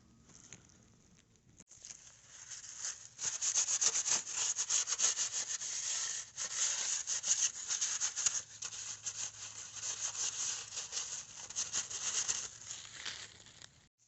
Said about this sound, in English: What I like to do is to wipe the surface with alcohol.